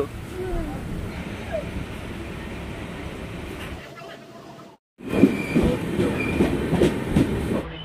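A Howrah to Digha local train running at night, its carriage rumble and wheel clatter steady and close, dropping almost to silence for a moment before returning louder, with a voice briefly heard.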